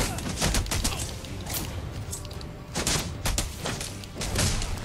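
Enemy gunfire in Batman: Arkham Origins on Xbox 360, dense overlapping shots and bursts in rapid succession, loud and continuous with booming impacts.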